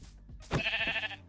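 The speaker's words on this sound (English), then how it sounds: "So these are sheep." A single short sheep bleat from the Minecraft video game, clear and close, heard alone.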